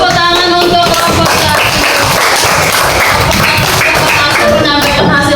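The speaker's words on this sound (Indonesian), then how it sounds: "Tepuk tangan untuk kelompok" A class bursts into sustained applause for a student group after their presentation, a dense, loud clapping from many hands that continues throughout.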